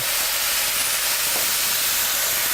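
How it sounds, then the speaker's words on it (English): Swordfish stirred into a hot pan gives a loud, dense, continuous hiss of steam and sizzle, close up and unbroken throughout, with no voices. "All you're gonna do is stir the swordfish in."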